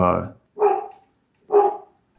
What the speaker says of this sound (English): is that the dog with the bad spine?